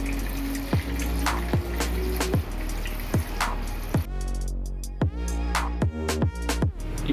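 Water is poured over drained pasta, with a splashing trickle followed by a string of sharp, separate drips and splats close by.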